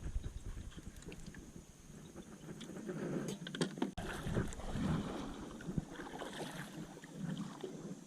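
A fishing kayak is paddled across a golf course pond, with soft watery splashes and strokes repeating over wind noise and faint background ambience throughout.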